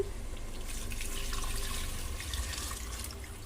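Water poured into a pot of mutton biryani mix, a steady close splashing, running flow that holds evenly for a few seconds with no voices.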